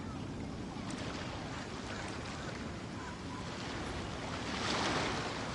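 Ocean waves in the Genshin Impact video game, a steady wash of surf that swells into a louder surge near the end.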